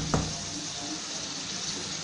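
Water poured into a pot of spiced meat for bhuna gosht, a steady close wash of liquid that runs without pause, with no voices.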